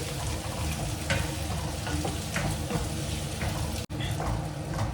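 Tomatoes sizzling and frying in a pan for a Kerala-style beef curry, a steady close crackle with occasional stirring clinks and a brief dropout near the end.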